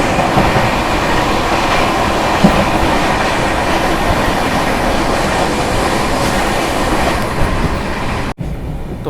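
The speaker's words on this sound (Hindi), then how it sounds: "भाई ट्रेन तो अपने बढ़िया स्पीड पे चल रही है" The Humsafar Express from Delhi to Prayagraj runs at speed, a loud, steady rumble of wheels and carriage noise with faint rhythmic clatter and a brief dropout near the end.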